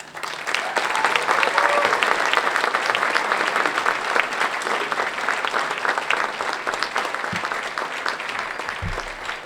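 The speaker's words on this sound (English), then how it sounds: "So give a round of applause for our newest Wallen" Dinner guests at a transportation club awards dinner give a long round of applause, dense clapping swelling early then slowly thinning, with a few thumps near the end.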